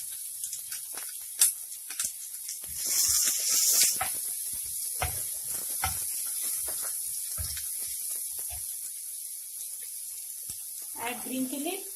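Small onions dropped into hot oil for masala paddu give a steady, thin sizzling hiss, with a brief louder flare early on and a few soft knocks and clatters over the sizzle.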